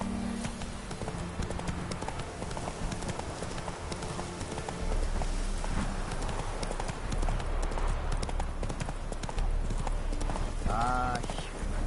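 Roach, the horse in The Witcher 3 game, gallops with steady rhythmic hoofbeats running through the whole stretch, while game voices and music play over them.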